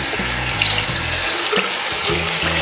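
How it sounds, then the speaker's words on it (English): A kitchen tap runs steadily, close and loud, while a sponge for a wet palette is soaked under the stream, with faint hollow tones from the water hitting the container. "we'll wet the sponge down"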